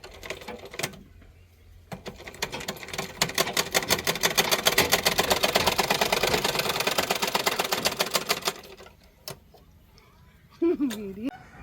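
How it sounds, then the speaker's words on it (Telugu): A rusty old sewing machine stitches unevenly: a fast mechanical clatter starts, runs for several seconds, then stops abruptly, with isolated clicks before and after. Someone speaks briefly near the end. "సగం కుట్టు పడుతుంది, సగం ఆగిపోతుంది, పడుతుంది ఆగిపోతుంది."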